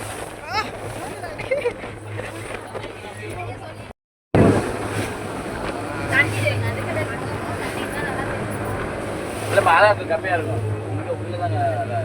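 A motorboat carries riders across the sea off Mallipattinam. A continuous engine hum and churning water run throughout, broken by a brief dropout partway through, with excited voices chattering on board.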